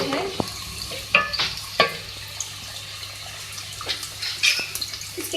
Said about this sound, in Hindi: सबसे पहले ऑयल में 2 मीडियम साइज़ की प्याज ऐड करूँगी। इसको मिक्स करेंगे ऑयल में।